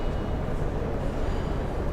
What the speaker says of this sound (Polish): Zaraz pokażę Wam, jak wyjedzie metro.